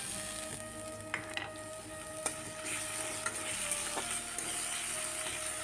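Onion, ginger, garlic, bay leaf and dried chili fry in hot oil for lentil dal, a steady close sizzle running throughout with a few sharp spatula clicks and scrapes against the pan.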